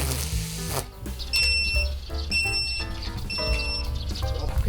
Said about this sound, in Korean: 삐삐거리면서